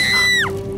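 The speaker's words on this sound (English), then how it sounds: "No need to scream, my dear." A shrill, high scream rings out in the Poppy Playtime horror video game, holding steady and then dropping sharply in pitch as it breaks off, loud and close over a low background hum.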